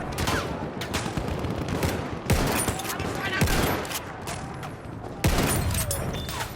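Rapid gunfire from a Battlefield 1 match rattles continuously, with several louder sharp rifle reports punching through the battle din, including unscoped sniper rifle shots fired at close quarters.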